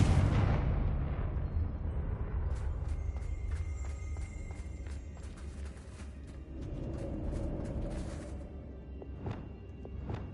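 A Confringo blasting spell in Hogwarts Legacy goes off in a loud, close explosion that booms at once, then fades into a rumbling tail scattered with crackling debris and a few sharper pops.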